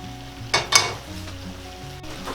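Carrots for a lumpia filling go into a pan with a couple of sharp bursts of sizzle and clatter early on, then settle into a quieter simmering hiss with faint stirring.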